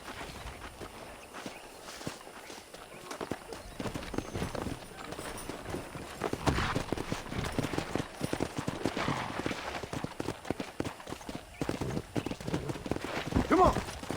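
Horses clop and run across open ground in Red Dead Redemption, hoofbeats thudding in an uneven rhythm that grows louder and busier partway through, with a voice talking over the galloping.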